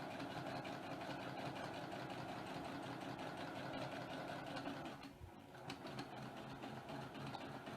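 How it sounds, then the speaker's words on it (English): A sewing machine stitching quilt half square triangles runs in a fast, steady, close mechanical whir. The motor briefly slows and drops in level about two thirds of the way through, then resumes. "Okay, so I'm going to just cruise down this line here."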